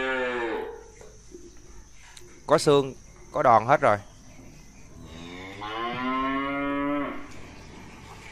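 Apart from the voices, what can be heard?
cattle mooing at a cattle market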